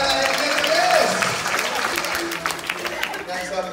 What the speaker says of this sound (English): can we get a better round of applause in our contestants?